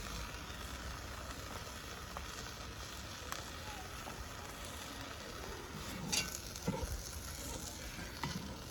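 Onions frying without added oil in a camp oven for mutton paya, a steady soft sizzle running throughout with a few louder crackles and stirring scrapes near the end.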